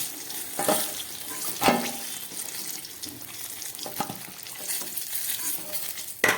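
Whole flat beans fry in hot oil, a steady dense sizzle running throughout with a few sharper crackling bursts as they are stirred, close and fairly loud with no talk.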